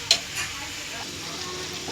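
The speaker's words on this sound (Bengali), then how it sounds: "জল দিয়ে দিচ্ছি, একটু ঝোল ঝোল ভালো লাগে" Water goes into a simmering curry of live shrimp, pumpkin leaves and potato, with a brief sizzle and stirring scrape at the start, then a steady soft bubbling hiss. No one talks.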